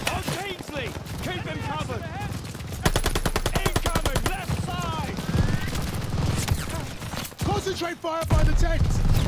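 Rapid machine-gun bursts in the Call of Duty: Vanguard World War II campaign, a fast, steady chatter of shots that stands out clearly amid battle noise and shouting voices.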